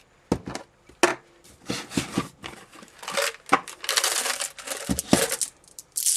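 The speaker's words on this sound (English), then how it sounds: "the next stage is going to be putting in some glass beads" Small glass beads drop into a glass tube for a DIY floating candle, a quiet, irregular run of light clicks, tinkles and rattles with short pauses between handfuls.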